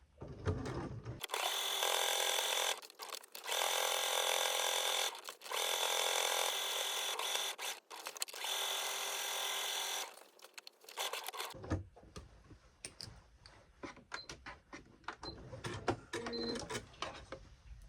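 A sewing machine stitches a seam on a fabric money and gift-card wallet in several loud, even bursts of rapid whirring separated by short pauses, followed by quieter rustling and handling of fabric.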